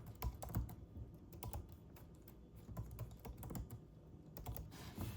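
Fingers type steadily on a computer keyboard, a quiet, continuous run of soft clicks while entering a password during a Sony camera setup.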